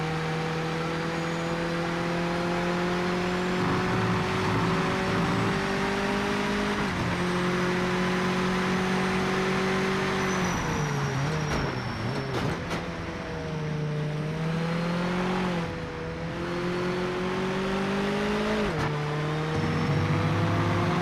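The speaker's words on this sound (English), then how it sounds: "is my voice being drowned out by the sound of the cars?" Race car engines in the Project Motor Racing video game drone loudly and continuously, with revs rising and falling through gear changes over the whole stretch and no voice heard.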